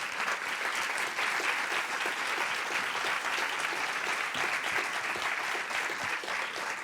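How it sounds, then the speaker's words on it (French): Steady, even applause from a conference audience fills the whole stretch, thanking the speakers at a talk on AI and corporate social responsibility, with no voices over it. "Mais je crois qu'on peut applaudir nos intervenants."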